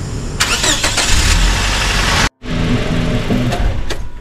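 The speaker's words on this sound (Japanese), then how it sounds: "とりあえずね、30分ぐらいエンジンかけます。" A Toyota HiAce TRH214W van's engine cranks and catches after an oil change, then idles steadily nearby after a brief cutout, its running hum continuous and fairly loud without talk.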